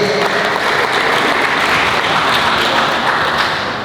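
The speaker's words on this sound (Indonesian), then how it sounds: "Tepuk tangan dulu buat media" Loud, dense applause from a press conference audience, clapping for the media in Bali, a continuous close wash of many hands that holds steady throughout before easing slightly at the end.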